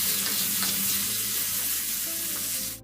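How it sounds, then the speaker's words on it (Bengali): Pointed gourd (potol) fries with salt and turmeric in oil, a loud, continuous close sizzle that hisses evenly throughout before cutting off abruptly at the end. "ভাজার সময় নুন আর হলুদ দিয়ে পটলটাকে কিন্তু হালকা একটু ভেজে নিতে হবে"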